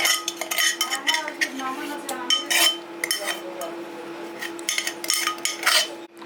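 A spoon scraping and clinking against a bowl while crushed ginger and garlic are mixed into chana dal batter for fritters, with irregular sharp metallic taps and knocks close by.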